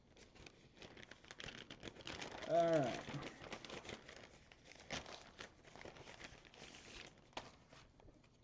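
Plastic packaging crinkles and rustles as a package holding a shiny printer bed surface is cut open with plastic cutting scissors, close and fairly loud, with brief speech over it.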